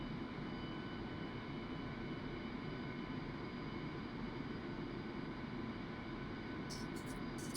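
Jet engines of an Su-25T Frogfoot in the DCS World flight simulator, idling at a steady low drone with a constant rumble, heard alone with no talking.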